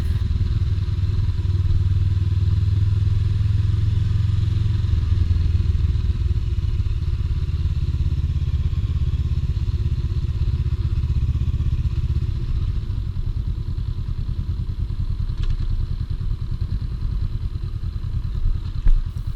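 Honda Rebel 500 motorcycle engine running steadily throughout while the rider shifts into second gear, a loud continuous low rumble with a brief drop in pitch partway through and no talking.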